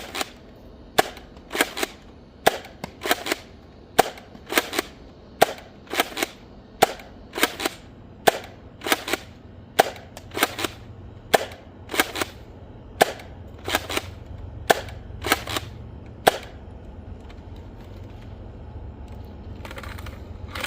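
A Nerf Rival Hypnos, a magazine-fed pump-action blaster with a folding stock released in 2019, firing foam rounds in a fast repeating rhythm of sharp snapping shots, each paired with a pump clack, close and loud for about sixteen seconds before falling quiet.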